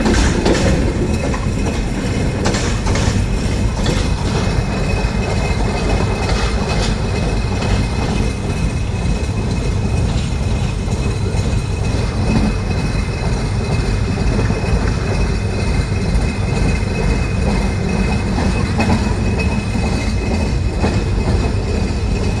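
The Rupsha Express, heard from on board as it arrives at Saidpur railway station, gives a loud, continuous rumble with rhythmic wheel clatter throughout and no talking.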